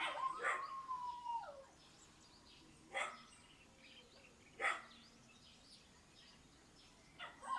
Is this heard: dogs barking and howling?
yes